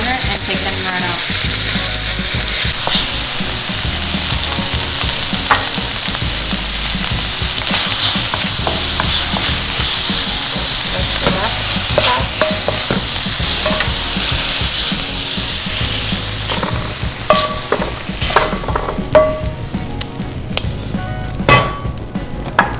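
Pieces frying in oil in a pan for egg fried rice, a loud, dense, steady sizzle running throughout with scattered sharp clicks and scrapes of stirring toward the end.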